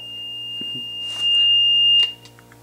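A leak sensor alarm sounds as a steady high-pitched electronic tone, loud and close, running for about two seconds before cutting off, with faint handling noises in the room.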